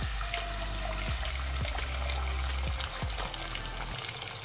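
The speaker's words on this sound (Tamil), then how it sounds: "சுடுதண்ணி கொதிக்க வச்சு ஊற்றிடுக்கிறேன்" Boiled hot water poured into a pan of ghee, just after cashews were roasted in it for rava kesari, sets off a loud, steady sizzle and bubbling with a few small knocks of utensils.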